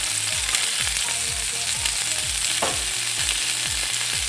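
Cherry tomatoes still on the vine sizzle in a little oil in a hot pan, a steady crackling fry with a gentle rhythmic scraping or stirring beneath it, close and continuous with no talk.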